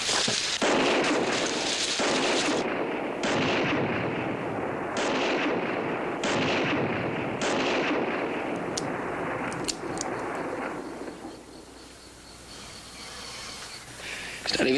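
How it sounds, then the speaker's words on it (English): Repeated gunshots fired into the air by a man in a Western drama, a string of sharp blasts at uneven intervals over a busy background, fading toward the end before one more loud pop. "He's firing in the air."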